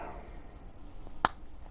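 A single sharp plastic click of a part snapping into place, brief and fairly close, over a quiet room background.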